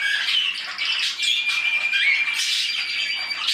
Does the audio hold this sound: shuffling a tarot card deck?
no